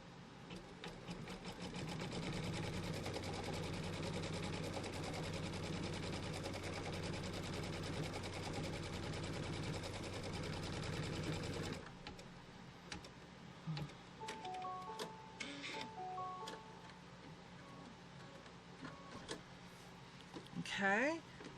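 An embroidery machine stitches a tack-down placement line in a fast, steady mechanical chatter for about twelve seconds, then stops, followed by quieter handling clicks and a brief electronic beep pattern.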